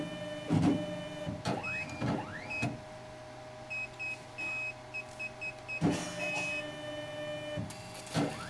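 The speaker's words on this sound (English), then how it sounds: "Prior to the scanning, the Wheelscan 5 performs a pre-calibration to prove the probe is working correctly." A Wheelscan 5 wheel inspection machine runs its pre-calibration, with several loud motor whirs and clunks, a run of electronic beeps and tones, and a steady hum between them, heard close and alone.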